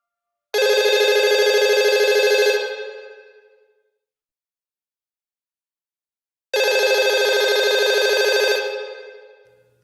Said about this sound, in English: The sound of a single telephone echoed through an empty office as Tate O'Byrne prepared for his first call